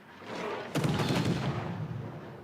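Torpedo hits striking a battleship in the naval battle game World of Warships: Legends, a sudden loud booming impact followed by a rumbling, crackling decay.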